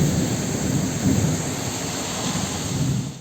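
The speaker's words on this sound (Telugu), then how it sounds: "తెలంగాణలో హైదరాబాద్ సహా పలు ప్రాంతాల్లో కుండపోత వర్షం కురిసింది." A heavy downpour over Hyderabad makes a dense, unbroken roar with low thunder rumbling underneath, loud and close throughout.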